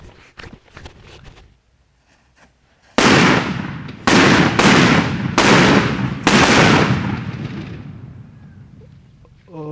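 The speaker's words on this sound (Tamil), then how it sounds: "இப்போ நாட்டு வெளியில் உள்ள அந்த தோரண குண்டு எப்படி இருக்குது அப்படிங்கிறத பார்த்துருவோம்" Nattu vedi thorana gundu country firecrackers go off outdoors as five loud, sharp explosions in quick succession, each with a short ringing decay, after a quiet lead-in with faint shuffling.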